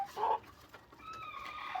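Black chickens cluck nearby: one short loud cluck at the start, followed by softer drawn-out clucking calls in a quiet setting.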